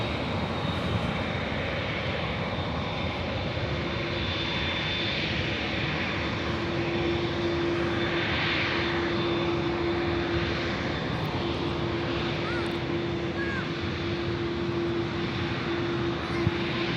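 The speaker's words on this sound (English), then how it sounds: "this is Flight 602, the Dreamliner heading back to Amsterdam" A Boeing Dreamliner jet airliner on Flight 602 to Amsterdam rumbles steadily at a distance as a broad, sustained engine roar with a faint tonal whine. The sound is constant throughout, with no speech.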